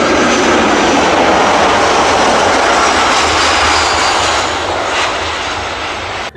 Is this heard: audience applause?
no